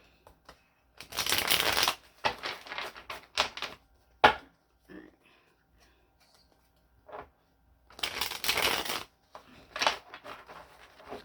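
Tarot cards shuffled by hand in several loud riffling bursts, each lasting about a second, separated by quieter pauses with a few soft taps and slides of the cards.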